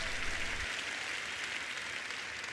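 Applause from a church congregation, a steady, dense wash of clapping that carries evenly throughout with no voices on top.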